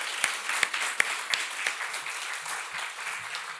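A church congregation applauds during a Sunday service, a steady patter of clapping with a few sharp, louder claps standing out near the start.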